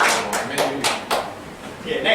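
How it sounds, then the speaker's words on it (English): A presentation audience giving a round of applause for a participant: a few loose, separated claps close by, uneven in rhythm, with talking starting near the end. "Steven, round of applause."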